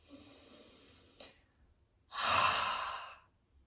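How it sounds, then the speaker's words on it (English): A soft breath, then a long, audible open-mouthed "haa" exhale, breathy and close, fading out gradually. "so you're making the sound ha on the exhale"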